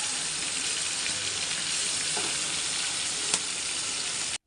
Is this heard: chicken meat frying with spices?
yes